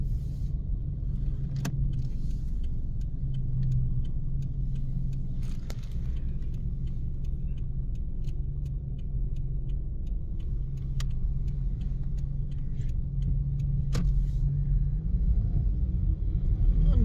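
Steady low rumble of road traffic, diverted cars passing in front of an apartment building, a continuous drone with occasional brief clicks and rattles and no talk.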